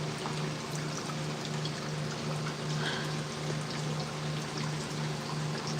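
Water pours steadily into the reservoir of a hydroponic Dutch bucket setup in a grow tent, a continuous soft splashing stream with a low pump-like hum beneath, no talking.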